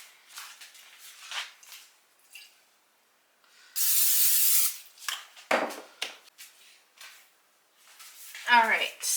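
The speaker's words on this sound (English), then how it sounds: "I'm gonna go ahead and spray this pan" A can of cooking spray hisses onto a pan in a home kitchen in one loud, sustained burst, with quiet talking and small handling noises around it.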